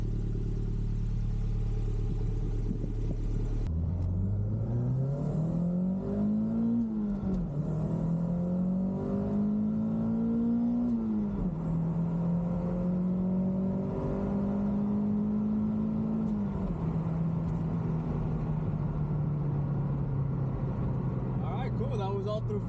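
Toyota MR2 with an HKS fuel cut defender installed accelerating hard through the gears to fourth up to redline, a loud steady engine drone rising in pitch with brief dips at each shift.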